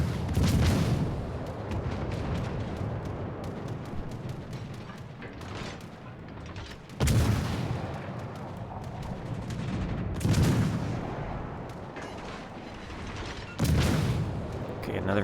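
Naval guns fire in World of Warships: Legends, with four heavy booming salvos arriving at irregular intervals, each followed by a rolling decay beneath steady engine and sea ambience.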